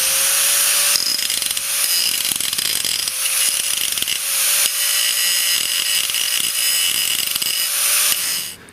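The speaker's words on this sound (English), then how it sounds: "Drill a hole right there, and that'll be that." A power drill whines steadily and loudly for several seconds, drilling a hole through a car's metal frame rail with small shifts in pitch before winding down.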